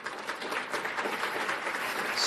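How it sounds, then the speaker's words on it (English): Faint, scattered applause from a modest audience at the World Economic Forum, a thin steady patter of clapping heard from a distance. "Smattering of applause."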